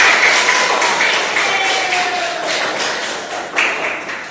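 Children in a classroom clap together, a loud steady wash of applause with a brief accented burst near the end, no talk over it.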